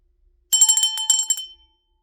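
A hand bell is rung for about a second, a quick cluster of bright metallic rings with clear, sustained tones that stop abruptly, loud and close with no talking.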